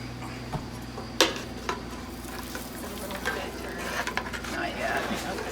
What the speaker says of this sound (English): Do you want me to just stir this?